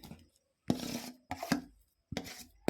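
Mashed potato being worked together with chicken by hand for cutlets, giving three separate bursts of soft, wet squishing and rubbing close up, with short silent gaps between them.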